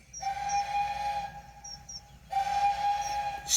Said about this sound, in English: Spencer whistled long and hard.